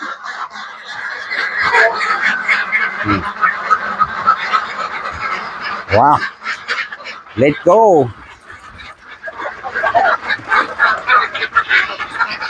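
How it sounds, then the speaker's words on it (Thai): Ducks quack and honk loudly near and far as they are let out of their pen on a duck farm, mixed with someone talking and rustling movement around them. "เดี๋ยววันนี้เราไปชมกันแล้วก็จะปล่อยน้องเป็ดออกมา"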